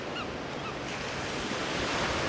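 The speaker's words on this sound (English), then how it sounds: "Gotta love the ocean." Ocean waves break on the shore in a steady, loud wash of surf with some wind noise, and faint bird calls come through early on.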